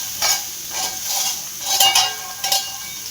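Eggplant is stir-fried in a pan over a low flame, with a soft sizzle broken by about five quick scraping strokes of a spatula at an uneven rhythm, close by and with no talking.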